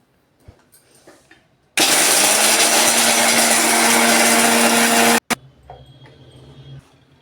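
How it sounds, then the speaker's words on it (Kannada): A kitchen mixer grinder blitzes roasted peanuts and niger seeds to powder in a mixie jar, a loud continuous whirring roar of about three and a half seconds that starts abruptly and cuts off, with quiet handling clatter before and after. "ಅದಕ್ಕೊಂದು ಮಿಕ್ಸಿ ಜಾರ್ನಲ್ಲಿ ಹಾಕ್ಕೊಂಡೆ ನಾನು."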